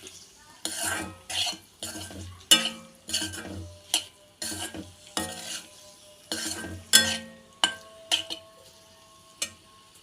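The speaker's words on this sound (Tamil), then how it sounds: "இப்போது கலக்கி விட்டுருணும் ஒரு நிமிஷம் நல்லா வதங்கிட்டு" Boiled eggs sautéing in masala in a pan, stirred with a metal spoon: a series of sharp scraping and clinking strokes against the pan, irregular, close and clear, over a faint sizzle.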